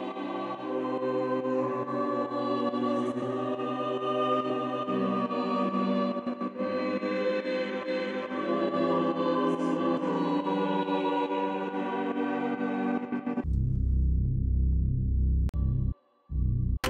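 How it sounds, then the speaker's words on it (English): A grime instrumental melody loop made in FL Studio, soaked in cathedral-like reverb, plays a sustained, tonal phrase for about thirteen seconds, then a deeper, buzzier synth pattern comes in with a brief gap, and no one speaks. "added some reverb just to make it sound like it was recorded in a cathedral or something"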